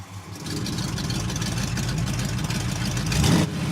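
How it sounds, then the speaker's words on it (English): A Pontiac GTO V8 with its exhaust switch flicked open rumbles with a deep, steady idle that swells into a louder rev near the end, heard close and without speech. "The V8 engine noise, of course, is absolutely incredible, but it's even better if I flick a switch."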